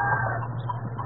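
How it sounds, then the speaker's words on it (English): Chickens clucking in an old-time radio drama sound effect, short soft clucks over a low steady hum, brief and moderately close. "They got chickens back there."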